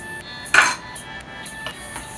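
A large ladle stirs kani salad in a bowl, giving one sharp clinking scrape of utensil against the bowl followed by a few faint knocks and rustles, close by and without speech.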